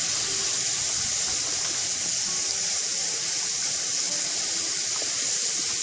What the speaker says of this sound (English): what we're doing now is washing out all the dirt that was on the outside of the wax